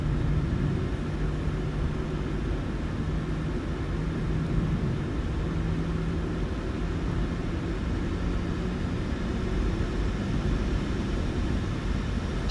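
Boeing 737-800 engines spooling at takeoff thrust in Microsoft Flight Simulator 2020, a steady, loud broadband roar with a low droning hum, continuous and unbroken throughout.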